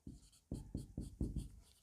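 Pen strokes scratching on paper or a board during a biology lecture on white blood cells, about half a dozen short rhythmic bursts close up with no talking.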